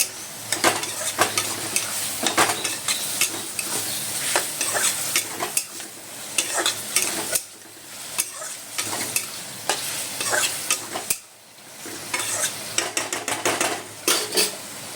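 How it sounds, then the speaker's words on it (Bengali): A spoon scrapes and stirs food with turmeric in a hot pan, with steady sizzling and frying underneath. Repeated clinks of metal against the pan recur throughout, loud and close, with brief pauses. "নাড়বো"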